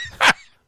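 A single short, sharp dog bark, close and fairly loud, followed by quiet.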